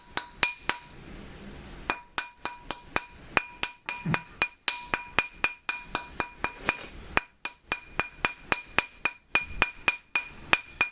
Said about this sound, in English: Tap it a little bit, round it out.